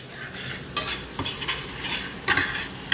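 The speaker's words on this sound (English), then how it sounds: "Okay, so my onions are nice and fried." Onions frying in a pan on a home stove, giving a steady close sizzle broken by several louder bursts as the spoon stirs and the pan is scraped, with no voices.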